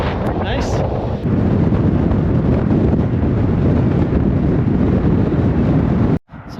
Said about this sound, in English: hard one to get it on there, it's windy